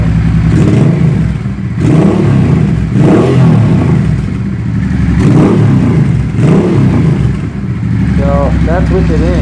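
Honda Hawk GT 650 motorcycle with a Delkevic shorty can exhaust, loud and close, revving repeatedly in surges over a steady idle, with a person talking over the engine.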